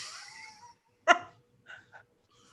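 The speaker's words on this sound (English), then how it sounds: "I think I'm gonna sneeze." A single sharp, close human sneeze bursts out after a soft breathy intake, followed by a couple of faint short sounds.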